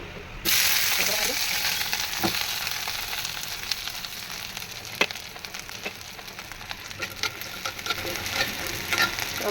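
Food frying in a pan, a loud hissing sizzle that starts abruptly and continues steadily with scattered stirring scrapes and clinks of a spoon, close up with no talking.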